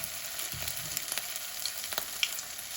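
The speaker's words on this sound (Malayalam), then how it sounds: "എണ്ണ നല്ലപോലെ ചൂടായി കഴിയുമ്പോൾ നമുക്ക് ഈ ചിക്കന് ഇതിനകത്തേക്കിട്ട് നമുക്ക് വറുത്തെടുക്കാവേ" Chicken pieces frying in hot oil in a home kitchen, a steady crackling sizzle with scattered pops and a brief low clunk, close and alone.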